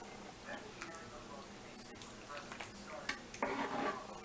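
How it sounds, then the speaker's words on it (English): A spoon stirring sauce into a ground beef macaroni casserole: faint, soft scraping and wet clinking of utensil against the dish, with one louder scrape near the end, over quiet room noise. "Spoon it over, then I'm gonna mix it in like this."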